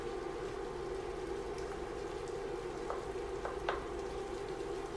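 Beef browning in a frying pan, a soft steady sizzle with a few scattered pops and ticks, fairly quiet and close with no voices.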